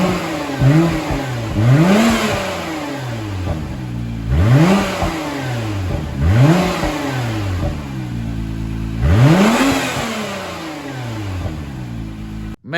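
Engine of a wrecked 2019 Acura NSX being revved in a garage, four or five loud sweeping throttle blips that rise sharply and fall back to idle, close by and with no voices.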